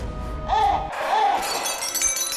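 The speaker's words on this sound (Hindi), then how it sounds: "बल्ब तोड़ डाला" Glass light bulb smashing in a home during a TV drama scene, a couple of sharp bright crashes with ringing tinkle and clatter, close and loud, no speech.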